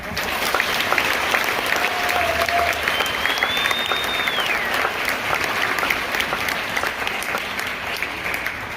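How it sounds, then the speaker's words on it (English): Sustained applause from an audience at a school awards ceremony for 7th to 11th grade students, dense steady clapping filling the room throughout, with a faint whistle or cheer above it. "Please give all these students a round of applause."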